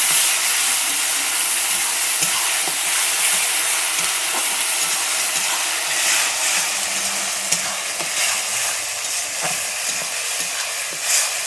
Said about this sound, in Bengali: এরপরে আমি দিয়ে দিচ্ছি বেটে রাখা পেঁয়াজ টমাটো আদা রসুন দিয়ে আমি এবারে এইটাকে ভালোভাবে কষিয়ে নেব